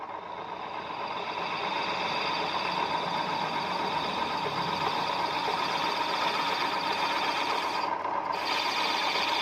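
Steady, continuous machining drone from cutting down the top of a tough 80 mm piston, a constant mid-pitched grinding whir holding even throughout with no pauses, fairly loud and close, no talk.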